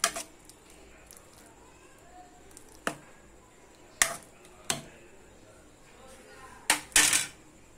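A metal spoon clinks sharply against a pan a handful of times while chili powder goes into a Telugu-style dosakaya tomato curry, the taps isolated and crisp over a quiet kitchen.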